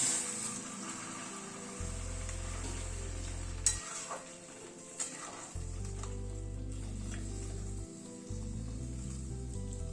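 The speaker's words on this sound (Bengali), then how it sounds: "এবার গরম জল অ্যাড করে দিচ্ছি" Sizzling and stirring in a pan of sautéed chicken as hot water goes in for a light chicken curry, a steady close hiss with brief clatters and a low hum underneath.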